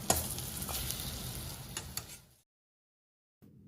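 Lentil vada fritters fry in a shallow pan of oil over a low flame, giving a steady close sizzle with light stirring clicks that cuts out abruptly, then a faint bit of room noise returns after the silence.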